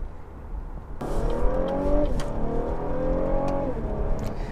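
The engine of a 2016 Cadillac CT6 is heard from inside the cabin, starting abruptly and then droning as it accelerates. Rising and falling tones track upshifts through the gears over a muffled road rumble.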